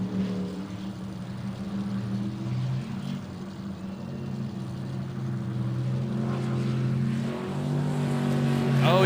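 A sprint race boat powered by a twin-turbo Chevy engine of 1,400 horsepower, fitted with a custom pump, drones steadily and loudly throughout, building slightly toward the end, with faint voices in the background.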